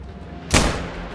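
A single loud gunshot from the hunting video game theHunter: Call of the Wild, on a hunt in Germany, bursts out after a quiet stretch and leaves a lingering rumbling tail.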